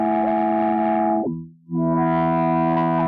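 A KiTiK free VST synth plays sustained distorted chords with its global filter switched on, swept down to a muffled low tone and then opened back up, loud and alone.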